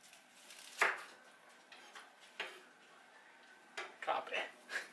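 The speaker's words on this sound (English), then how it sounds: "Now we go back to cutting up a shallot." A knife chops through a shallot on a cutting board in a home kitchen, giving a few sharp, close taps at irregular intervals, with quieter knocks and handling noises between them.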